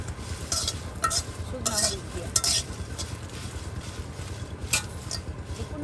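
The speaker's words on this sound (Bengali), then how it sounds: "আর এই মরিচ ভেজে নেওয়া হচ্ছে" Dried red chillies fry in a pan and are stirred, giving a soft sizzle under repeated scraping and clinking of a utensil against the metal, with faint voices in the background.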